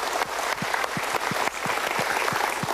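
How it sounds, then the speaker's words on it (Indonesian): Studio audience applause at an Indonesian motivational talk show, steady broadband clapping with sharper claps punctuating the wash, continuous and fairly loud throughout. "Kita berikan tepuk tangan dulu."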